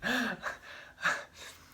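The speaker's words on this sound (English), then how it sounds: "I had to yawn." A person yawning: one drawn-out breathy exhale with a rising and falling voiced tone, followed by a couple of softer breaths and a short sigh-like gasp, close and fairly loud.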